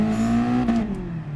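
Car engine revving up under acceleration in the racing game Gran Turismo Sport, a steady harmonic drone climbing in pitch then easing off near a gear change, loud and close with no talk.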